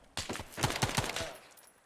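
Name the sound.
gunfire in the video game Arma 3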